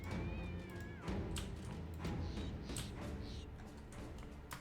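Cats meow in the video game Battle Brothers, several wavering, pitch-shifting cries against a busy backdrop of thumps and game clatter, fairly quiet overall.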